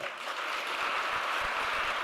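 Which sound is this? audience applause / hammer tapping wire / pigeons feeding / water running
audience applause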